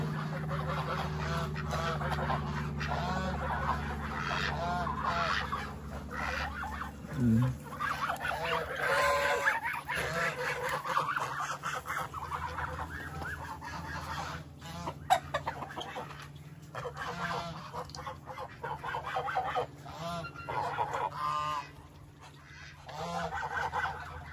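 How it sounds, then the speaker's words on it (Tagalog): A flock of domestic waterfowl calls at close range with a busy, overlapping chorus of honking, nasal quacks, continuing almost without pause over a low steady background hum. "Mga bibi."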